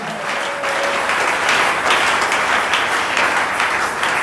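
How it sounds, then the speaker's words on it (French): Loud, dense applause from a church congregation during a worship service, continuous and steady throughout with a faint voice near the start. "Si tu es avec moi, tu acclames très fort le Seigneur de gloire."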